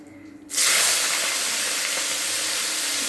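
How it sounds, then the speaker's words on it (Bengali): Prawns dropped into hot oil in a kadai burst into a loud, sudden sizzle after a quiet start, then settle into a steady hiss of frying. "কড়াইয়ে তেল গরম হয়ে গেছে। এই যে চিংড়ি মাছটাকে আমি ভেজে নেব।"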